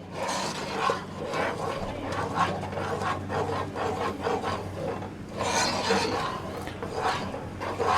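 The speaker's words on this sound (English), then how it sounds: "Just keep stirring it." A spoon scrapes and rubs rhythmically around the bottom of a pot of cooking rhubarb jelly, making repeated strokes close by.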